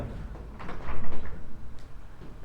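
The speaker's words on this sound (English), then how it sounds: "Would you mind just opening that door behind you?" A door at a debating competition is opened, giving a close rumbling slide and a few knocks and rattles that swell and fade over a couple of seconds, with no talking.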